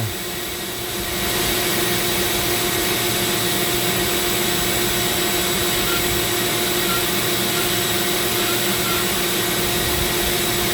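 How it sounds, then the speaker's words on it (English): A Dremel rotary tool sands a zebra wood ring held against sandpaper, turning it like a lathe. A loud, steady high-pitched motor whine starts after a second and runs unbroken, close up, with no talking. "a sheet of sandpaper, and I will be able to sand this down kind of like using a lathe."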